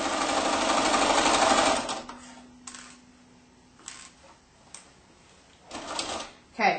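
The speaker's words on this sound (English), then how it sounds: "Okay, so you're going to do a little back stitch there. And sew in a circle." Sewing machine running a short burst of stitching on a dress seam, then falling quiet apart from a faint hum, a few clicks and handling noises, with someone talking now and then.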